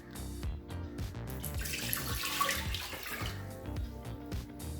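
Water from a tap runs into a pressure cooker for cooking broken wheat rava, a gushing, splashing pour that swells and falls over several seconds at close range, without speech.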